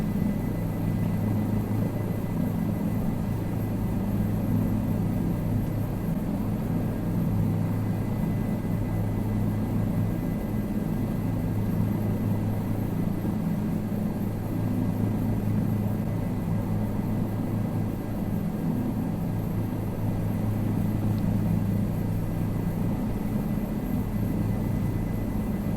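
Aircraft engine drones steadily in Microsoft Flight Simulator 2020 during a flight over Bora Bora, a continuous loud low rumble with a faint high whine, lasting throughout with no talk.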